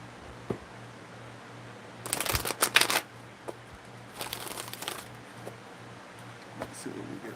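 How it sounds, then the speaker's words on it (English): Tarot cards are shuffled in two close, crisp riffling bursts, with a few lighter card taps in between over a faint steady hum. "Let's get one more shuffle."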